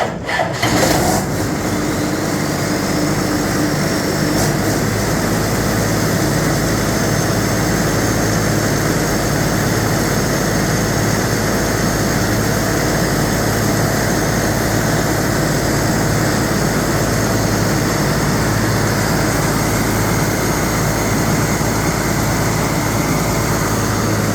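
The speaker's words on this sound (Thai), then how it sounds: "วันนี้เดี๋ยวมาลองระบบรถเกี่ยวของลูกวัว" A combine harvester's Hino diesel engine runs steadily after a brief start, a loud continuous drone with a broad roar and a faint whine, close by and with no talk.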